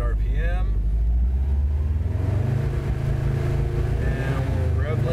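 A track car engine cranks, catches and revs hard up to the rev limiter, a loud close rumble that climbs and holds at the limiter, with someone talking over it.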